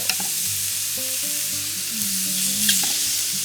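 Pork sizzles steadily on a hot tabletop grill pan, a constant crackling hiss with soft tonal hums and occasional clinks in the background.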